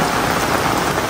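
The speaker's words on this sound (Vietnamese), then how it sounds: "Mưa ơi mưa xin mưa đừng rơi, mưa ơi mưa xin mưa đừng rơi." Heavy, steady rain pours down, a dense unbroken hiss with no gaps, close and loud throughout, at an outdoor grave site with no voices in this stretch.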